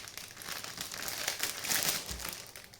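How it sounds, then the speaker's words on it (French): Wrapping paper around a gift vase crinkling and tearing as it is pulled open, close and fairly quiet, a few seconds of dense rustling with no talk. "J'ai tout déchiré par contre."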